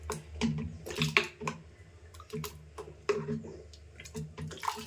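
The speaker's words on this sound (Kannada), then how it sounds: "ಮಿಕ್ಸಿ ಜಾರು ಕೂಡ ಸ್ವಲ್ಪ ನೀರು ಸೇರಿಸ್ಕೊಂಡು ಆ ನೀರನ್ನು ಹಾಕಿ" Water rinsed from a mixer jar is poured into a cooking pot of tomato and ground masala, heard as short splashing gushes and trickles in irregular bursts, fairly close.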